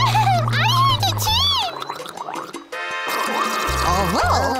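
A cartoon character makes wet gargling and bubbling noises with the mouth to imitate ocean waves, wobbling and warbling, with a brief break midway before the gurgling resumes.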